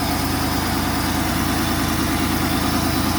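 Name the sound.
1986 Firebird V6 engine idling with exhaust leak at headers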